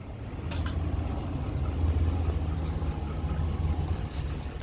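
A 2018 Ram 1500 Big Horn SLT pickup with a 5.7-liter HEMI V8 idles smoothly, a steady low engine rumble held close and even throughout, with no voices over it.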